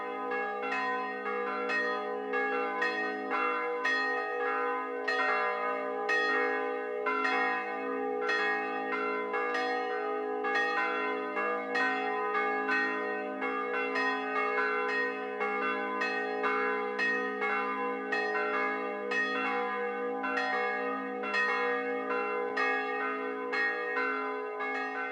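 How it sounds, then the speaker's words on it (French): Church bells ring loudly and continuously over a cemetery, overlapping tolls with a sustained metallic hum, steady throughout with no voices. "les cloches de Sapienza sonnent à tue-tête"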